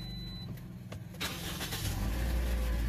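A Toyota Altis engine runs steadily after an ignition coil repair. The low rumble is even and moderately close, with a small rise in level partway through and no talking.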